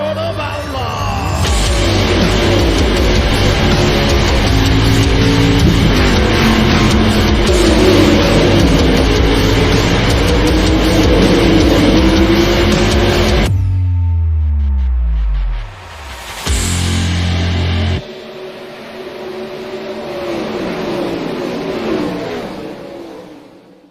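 Dirt race cars from the iRacing sim, World of Outlaws series, roaring loud and steady with engines revving, then a sharp sweep as one passes close before the sound drops to a quieter rev.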